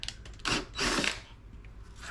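Cordless power drill backing a bit out of a freshly bored hole during an exterior door lock and deadbolt installation: two short, rough bursts of whirring and grinding close by, with brief pauses between them.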